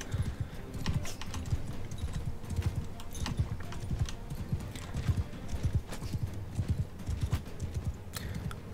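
Hooves of a galloping horse in the video game Mount & Blade II Bannerlord pound in a quick, continuous rhythm, close and steady, mixed with sharp clicking noises.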